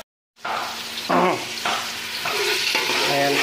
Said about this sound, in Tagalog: Ginigisa ko na yung garlic at sa corn.